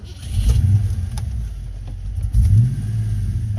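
A car engine with a misfiring ignition coil idles and revs in two surges, rough and uneven, loud and close with no talking.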